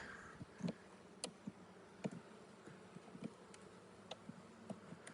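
Honeybees hum around a hive in a low, quiet, wavering buzz, with short clicks and brief sharper buzzes from bees passing close to the microphone.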